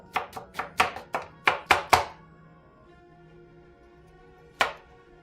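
Knife chopping an onion on a cutting board, a quick run of about eight crisp, close thuds in steady rhythm, then a pause and one final chop.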